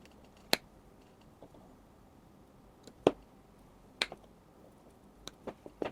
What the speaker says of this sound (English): Now that I have cut the cable into two 17 centimeter parts